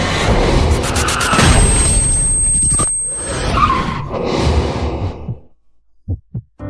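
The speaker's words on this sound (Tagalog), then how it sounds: "Mababangga tayo." A car skids and crashes. A loud, rough burst of tire and engine noise swells and ends abruptly, followed by a few short, sharp thuds in near silence.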